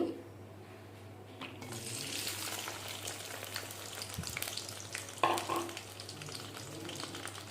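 Sliced onions with green chillies frying in hot oil for an Andhra-style botti mango curry, a close steady sizzle with stirring scrapes and a sharper burst partway through.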